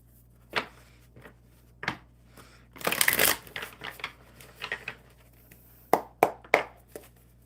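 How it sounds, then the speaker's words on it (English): A deck of tarot-style cards shuffled by hand at a table: irregular soft riffles and taps, with a louder burst of rapid flicking in the middle and a few sharp card snaps near the end, close and quiet. "One more shuffle for Raymond."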